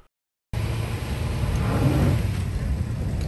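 An off-road overland vehicle stuck on a steep sandy hill gives a sustained engine rev that swells slightly as it strains, loud and close with a rumbling low drone.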